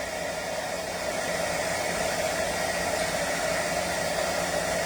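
A heat embossing tool blows a steady, loud whooshing hiss while melting embossing powder on a candy cane card, continuous and close with no talking.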